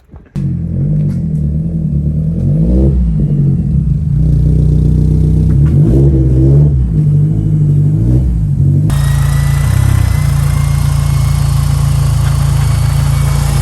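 An Audi TT MK1 with a 600 bhp 2.1-litre stroker engine on 30 psi boost revs and accelerates up close, a loud rumbling drone rising and falling in pitch, then shifting to a harsher, steady roar.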